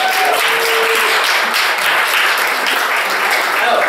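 A room full of listeners claps for the readers at a Speakeasy reading night, continuous loud applause from many hands, evenly sustained from start to finish with a brief murmur of voice near the beginning.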